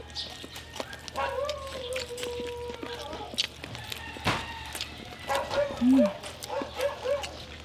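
Dogs bark and yip in short irregular bursts at an outdoor cooking spot, some close and sharp, others farther off, with a few whimpering sounds mixed in and background noise between barks.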